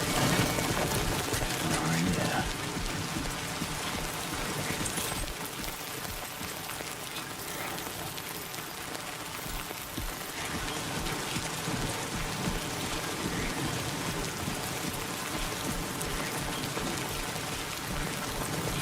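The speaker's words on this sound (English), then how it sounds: "It's literally rain that ages things." Timefall rain from the video game Death Stranding 2 pours steadily and densely throughout, a loud, even hiss of rainfall with faint voices in the background.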